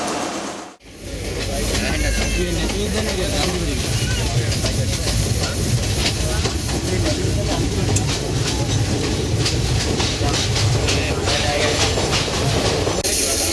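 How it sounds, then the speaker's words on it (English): A passenger train in Sri Lanka, bound for Nuwara Eliya, rolls along with a loud, steady rumble and rhythmic clatter of wheels on track, heard from inside the carriage without talk. "Alright, I'm in the train now off to Norelia."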